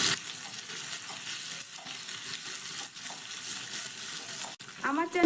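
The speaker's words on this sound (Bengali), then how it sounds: "একটু নাড়াচাড়া করে ভেজে নেব।" Tomato stirred and fried in a pan makes a continuous close sizzle of oil, with scraping stir strokes scattered throughout and a clank near the end.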